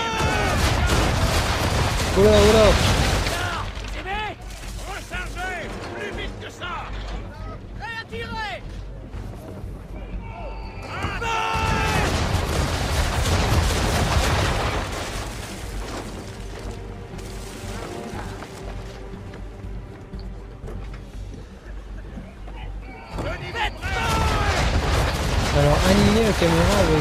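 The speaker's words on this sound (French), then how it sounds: "quand tous les canons seront sur la cible, crie feu!" An English frigate's cannons fire in repeated booming broadsides in the Assassin's Creed 3 video game, with crashes and rumbling between volleys, while a player talks and exclaims over the battle.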